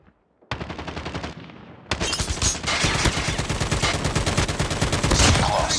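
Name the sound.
machine gun fire in Call of Duty video game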